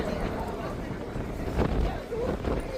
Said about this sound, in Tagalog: Lakas na hangin guys.